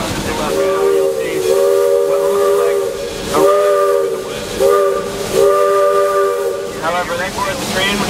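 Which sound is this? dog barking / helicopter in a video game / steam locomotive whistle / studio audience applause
steam locomotive whistle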